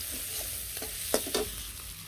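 Vegetables with a little turmeric fry in a pan in a rustic village kitchen. A steady hiss runs throughout, and a couple of sharp scraping stirs stand out near the middle.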